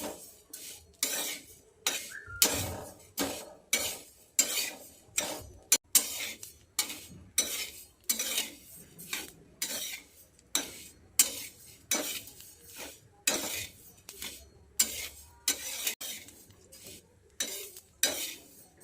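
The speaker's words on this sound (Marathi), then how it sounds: "मीडियम गॅसवर भाजायचं" Chillies roasting in a pan over a medium gas flame, turned with a utensil in a steady rhythm of scraping clatters about once a second, close and fairly loud.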